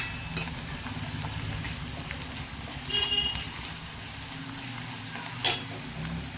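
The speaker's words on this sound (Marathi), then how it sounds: "आता आपण ह्याच्यामध्ये थोडीशी अद्रक लसूणची पेस्ट टाकूया, अर्धा चमचा। ही पण व्यवस्थित मिक्स करून घ्यायची याच्यामध्ये।" Half a spoon of ginger garlic paste sizzles and fries in a pan of vegetables while a spoon stirs it, steady close frying hiss with occasional scraping clinks, no talking.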